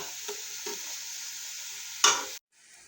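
Onions fried to golden in a pan for Kerala-style rabbit roast: a steady soft sizzle broken by a few stirring scrapes, the last one louder before it stops.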